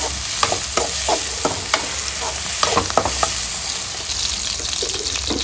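Small tomatoes sauté in a pan for a chicken gravy, giving a constant close sizzle broken by irregular clinks and scrapes as they are stirred, with no voices.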